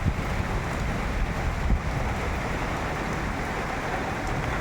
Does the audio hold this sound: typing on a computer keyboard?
no